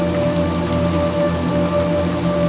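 Steady, dense rain falling on surfaces in the video game Little Nightmares 2, a constant close patter filling the whole stretch with a low droning hum beneath it and no voices.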